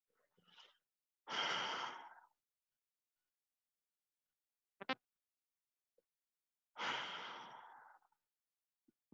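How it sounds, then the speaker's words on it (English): Two deep, audible breaths stand alone in a quiet room, each a long, breathy inhale-exhale about five seconds apart, with a few tiny clicks and a short sniff between them. "I'm going to take in a couple more deep breaths."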